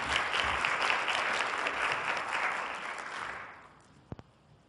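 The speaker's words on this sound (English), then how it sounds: "Let's have a round of applause." An audience at a student science forum claps in steady, dense applause that fills the room, then thins out and fades away, with a couple of faint knocks near the end.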